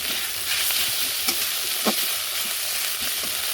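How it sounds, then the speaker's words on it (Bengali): Ground spices frying in a pan with salt and turmeric added, stirred by hand: a steady close sizzle with a few soft scraping strokes. "এগুলোর মধ্যে দেবো একটু লবণ, একটু হলুদ দিয়ে আর একটু নাড়াচাড়া করবো।"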